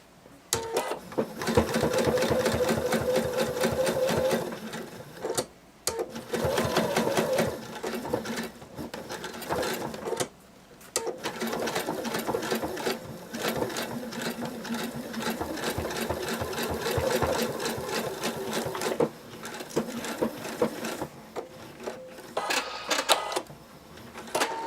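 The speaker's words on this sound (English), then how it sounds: "And then you're going to sew them in." Sewing machine stitching fabric wings into a tiny dragon plush, a steady rapid mechanical whir running almost continuously with brief pauses between seams, close and prominent.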